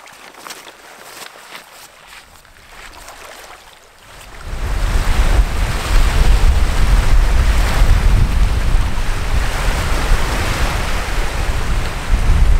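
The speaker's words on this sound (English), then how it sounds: "It is windy" Strong wind gusts over a wilderness lake in Quebec, with waves breaking on the shore. The sound starts as a moderate rush, then swells into a loud, steady roar of wind buffeting and surf that continues to the end.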